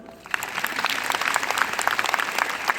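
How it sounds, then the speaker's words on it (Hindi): An audience at a gathering of yoga and state leaders claps steadily, dense applause rising after a quiet start and continuing evenly to the end. "तो बजाओ ताली"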